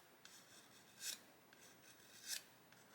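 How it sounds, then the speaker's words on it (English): Sanding stick stroked gently across a hard plastic part of an Airfix 1/72 Hurricane Mk.1 model kit, two soft, close rasping strokes about a second apart over a quiet background. "gently stroking the sanding stick"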